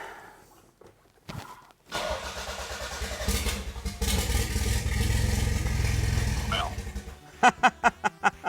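A Toyota MR2 engine without a proper muffler cranks, sputters, catches and settles into a loud, raw, clattering run before being revved in a series of sharp bursts, with a few voices at the start.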